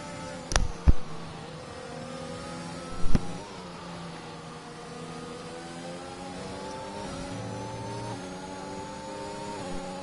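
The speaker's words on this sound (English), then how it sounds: "We're going to get a drag race towards 130R." F1 2021 race cars at Suzuka run side by side in a drag race toward 130R, a steady engine drone with rising harmonic tones throughout, marked by a few sharp clicks and bursts near the start and middle.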